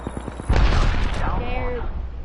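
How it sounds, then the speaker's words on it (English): A grenade explosion in Apex Legends, a heavy deep boom bursting out after a few light taps and rumbling for a moment, with a voice talking over it. "Look out, grenade."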